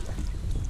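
A K Largo sea kayak moves along a suburban river in North Queensland, with soft low water swish and wind noise across a very short moment, no voices.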